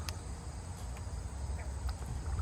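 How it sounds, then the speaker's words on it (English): Faint, scattered frog croaks and chirps sound from a distance over a steady low outdoor hum, with no talking. "Oh, I heard some frogs."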